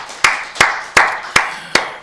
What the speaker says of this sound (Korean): 우리 살아계신 하나님께 박수 영광 드리겠습니다.